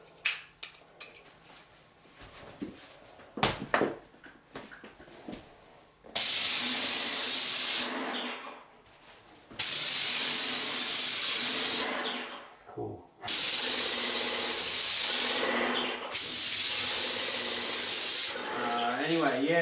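A Wagner Control Pro 250 M paint sprayer hisses loudly in long sustained bursts, painting a hallway, with several pauses between blasts; quieter handling noises and faint speech come first.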